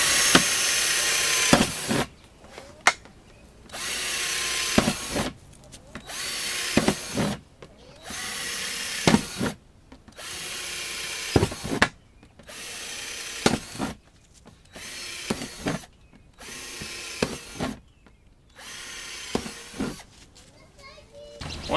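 A power drill bores a series of holes into the top of a plastic compost bin, about a dozen short whining bursts separated by brief pauses, close and loud, with faint children's voices in the background.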